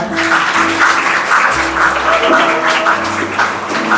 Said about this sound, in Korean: 우리 선생님들께 박수로 한번 감사 인사를 나눌까요?